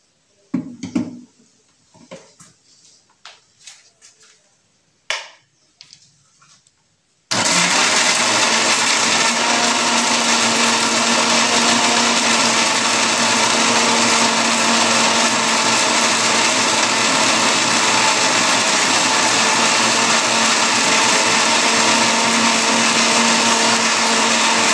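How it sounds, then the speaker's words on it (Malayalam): A few light clicks and handling knocks come first, then an electric blender roars up and runs steadily and loudly for about seventeen seconds, pureeing guava for a guava shake. "പേരക്ക ആദ്യം നമുക്ക് നന്നായിട്ട് അടിച്ചെടുക്കാം."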